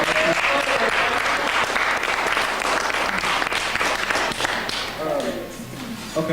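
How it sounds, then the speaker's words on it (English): A festival audience gives a loud round of applause, dense clapping that fades slightly toward the end as a voice begins speaking. "give him another round of applause."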